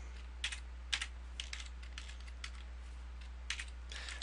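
Quiet clicking keystrokes on a computer keyboard come in short, uneven bursts with brief pauses between them, over a low electrical hum.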